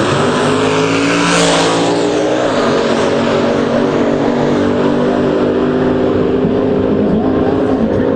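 A Camaro drag race car at the starting line launching hard with a roaring, revving engine that surges loudly, then holds a heavy sustained drone as it pulls away down the strip.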